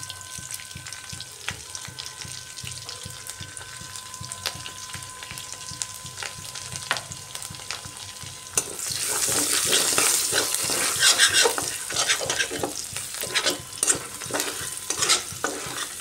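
Chopped garlic frying in oil in a pan for a red amaranth greens dish. Soft stirring scrapes come first, then a loud, steady close sizzle takes over partway through and keeps going with utensil clinks.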